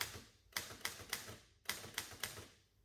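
A 1908 Remington 7 typewriter as its tabulator moves the carriage: two bursts of sharp mechanical clacks in quick groups of three or four, close and otherwise quiet.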